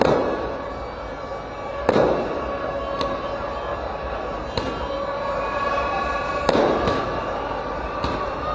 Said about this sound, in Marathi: फटाक्यांची आतषबाजी केली जाते।